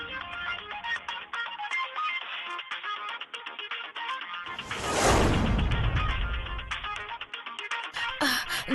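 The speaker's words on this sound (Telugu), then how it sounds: "నీలమ్మా మనం గొంతుతో మాట్లాడలేకపోయినా మొబైల్ సౌండ్ వినిపిస్తుంది." A mobile phone ringtone plays as a loud, busy melodic tune throughout, with a sudden dense swell of noise in the middle and no talking.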